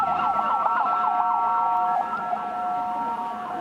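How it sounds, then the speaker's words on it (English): An ambulance siren wails in rapid wavering cycles as it passes through a street protest, loud and close over crowd background, then shifts to a steadier tone. "Oh, watch out, we got an ambulance coming through."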